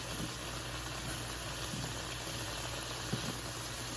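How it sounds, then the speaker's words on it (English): Shrimp cooking in butter in a pan give a steady, continuous sizzle with faint crackles throughout, close and even in level, with no talking. "I can't act like I don't have some shrimp in here that are cooking"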